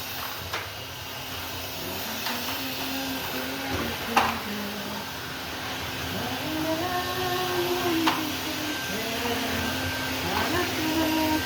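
A vacuum cleaner drones steadily throughout with a constant whirring hum, while faint voices and occasional clicks come and go underneath.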